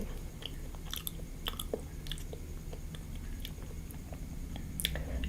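Someone chews dried lukphap fruit up close, with soft, irregular crunchy bites and squishy mastication over a faint steady background hum, with no talking.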